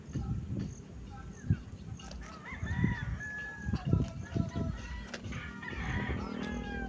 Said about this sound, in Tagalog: Daming manok sa likod ko.